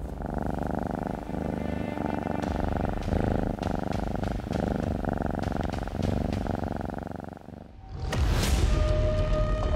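A cat purrs close up in a steady rumbling rhythm with faint ticking pulses, then a louder, brighter burst of sound takes over near the end.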